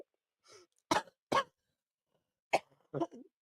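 Several short, sharp coughs come close together, a pair in quick succession followed by a couple more after a brief pause, in a quiet room.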